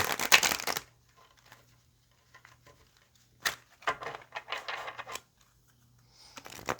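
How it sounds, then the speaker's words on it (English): Tarot cards being shuffled in several crisp, riffling bursts separated by quiet pauses, close and fairly soft. "Let's get a couple of good shuffles here."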